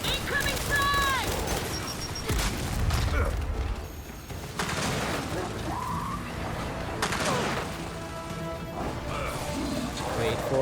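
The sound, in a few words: frag grenade explosion in the video game Gears 5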